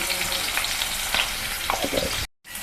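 Green chilli and onion pieces frying in a pan as turmeric goes in, for restaurant-style methi chaman. A loud, close sizzle runs under occasional stirring scrapes, then breaks off briefly before resuming.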